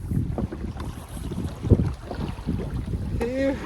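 Wind buffets the microphone while kayaking on the Alsea River near Waldport, Oregon, a steady low rumble with water and boat noise and a brief voice near the end.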